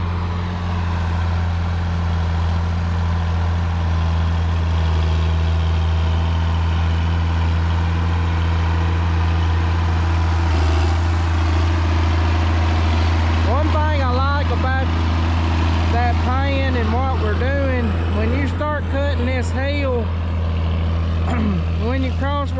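A tractor pulling a new Reynolds 8-yard dirt pan across a filled-in ditch, its heavy engine droning loud and steady throughout with a constant low rumble, while chirping birds or squeaks rise over it in the second half.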